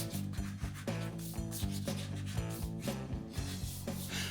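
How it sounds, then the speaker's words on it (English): A firm block with 180-grit paper sands polyester filler over pinholes on a split bumper RS nose, producing rhythmic, close rasping back-and-forth strokes at a steady pace. "I'm still using 180 on a firm block to level out the filler that I put over top of the pinholes."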